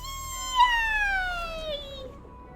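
A cat in the Fontaine region of the video game Genshin Impact gives one long, clear meow that slides slowly downward for about two seconds over a soft background hum.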